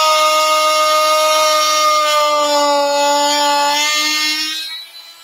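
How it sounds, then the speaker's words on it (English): A small 150-watt power carver with a hammer action runs on wood, giving a loud, steady high-pitched whine with strong tonal harmonics that holds for several seconds, then winds down at the end as it is switched off. "So a power carver. On and off, it'll make a bit of noise."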